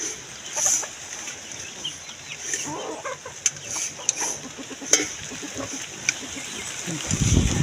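Chickens cluck and squawk intermittently in a yard, with occasional sharp louder calls over a quiet background, and some rustling and splashing noise building at the end.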